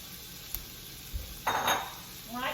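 Onions, carrots and a little Savoy cabbage drop into a pan of sesame oil on a burner that is still off, giving a brief soft clatter and a short burst of stirring. Small taps come first, and there is no talk.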